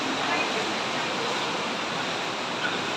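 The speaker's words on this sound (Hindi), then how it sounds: "देखिए कौन सी नदी है जो यहाँ से इसके बराबर से बहती है। भाई पानी बहुत तेज हो रखा" A fast, swollen river rushes beside Tapkeshwar temple in Dehradun, Uttarakhand, during the rainy season: a steady, dense roar of flowing water that holds constant with no breaks for the whole stretch.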